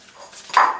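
Dogs in the background, eager for food, give a short close yip or bark that rises out of a quiet room near the end.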